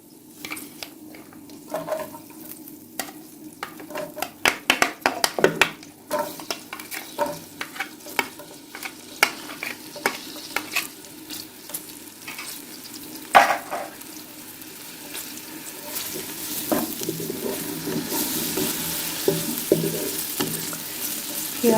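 Chopped onion frying in oil in a pan over medium heat for vegetable macaroni, a steady soft sizzle broken up by a run of scraping stirring clatters, with the frying growing louder and denser toward the end.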